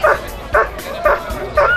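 A dog barks four times at a steady, even pace, each bark short, close and loud, during a dog training demonstration by a dog training club at an outdoor tractor show event.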